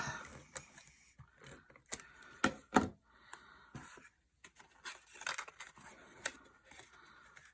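Adhesive tape is run along a paper treat holder in close, quiet bursts of sticky crackles, tearing and tapping, irregular and brief, with no voices.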